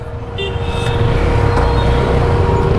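Busy main-road traffic in Bangalore, India: a continuous loud rumble of cars, buses and trucks close by, with a brief horn toot rising over the steady din.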